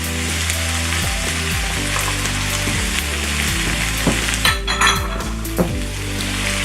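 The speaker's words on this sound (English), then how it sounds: "you're just going to stir in the zucchini so that they also get coated with all of the sesame oil" Zucchini and mushrooms sizzle steadily as they stir-fry in sesame oil, a loud close hiss with a few clinks and knocks of the utensil against the pan near the end.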